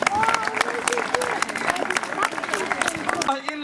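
Applause breaks out for wrestler Mahmut Şahin at a Turkish cultural association festival in Hamm. A loud, dense crowd claps continuously and the sound ends abruptly.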